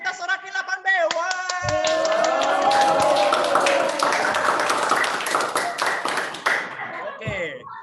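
Students in a junior high school classroom clap and cheer for class 8B, a dense burst of applause mixed with shouting voices that lasts about seven seconds before fading.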